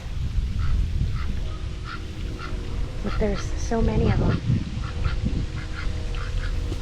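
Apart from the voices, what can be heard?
ducks and geese at Cave Hill Cemetery pond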